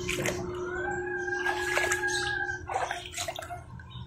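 Water spilling from the overflow of a filled backyard pond, a continuous close trickle and splash with a steady tone running through it and faint bird calls behind, no talking.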